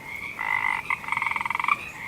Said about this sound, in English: Ribbit, ribbit,